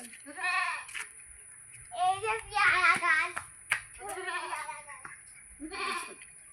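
A goat bleats several times in quick succession, nearby and fairly loud, each call a wavering, nasal cry separated by short pauses over quiet outdoor background.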